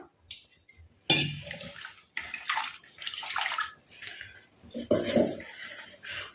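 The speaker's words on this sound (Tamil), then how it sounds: "இப்போ இதில் வந்து தண்ணி ஊற்றி நம்ம வாஷ் பண்ணிட்டு எடுத்துக்கலாம்" Flowers are swished and washed by hand in a container of water for a homemade hair dye, giving close, intermittent splashing and sloshing bursts separated by short pauses.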